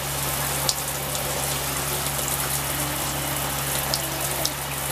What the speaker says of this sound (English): So setting one looks to be like a full-on shower.